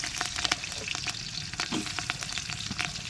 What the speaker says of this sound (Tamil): பெரிய வெங்காயத்தை கொட்டோன்னு நல்லா பொன்னிறமாக நல்லா வதக்கணும்